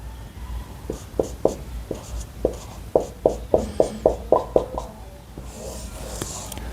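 A pen or marker taps and scrapes across a board in a quick run of short, crisp strokes, fairly close and clear, with a faint hiss in the background and no talking.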